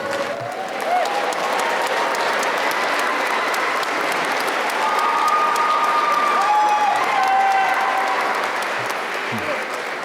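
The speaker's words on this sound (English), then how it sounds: "One more round of applause" Steady, sustained applause from a large crowd at a graduation commencement ceremony fills the space, with a few faint voices and whistles under the clapping.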